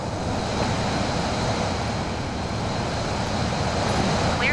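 A Cirrus SR22 piston single-engine aircraft in Microsoft Flight Simulator, departing Malta, gives a steady, loud, broadband engine and propeller roar that holds evenly throughout without talk.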